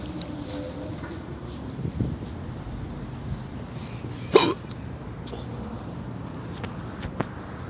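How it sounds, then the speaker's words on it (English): A person hiccups outdoors in West Philadelphia, one clear sharp hiccup midway with a couple of fainter catches around it, over steady wind and distant traffic noise. "Jeez, these hiccups"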